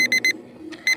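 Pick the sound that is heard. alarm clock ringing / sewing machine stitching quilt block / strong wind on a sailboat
alarm clock ringing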